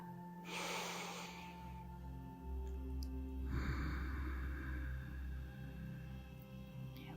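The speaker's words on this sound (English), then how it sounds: "Building our Ujjayi breath" Slow, audible Ujjayi breaths during a gentle wake-up yoga stretch: two long, airy, throaty breaths, close and quiet, separated by a soft pause against faint background hum.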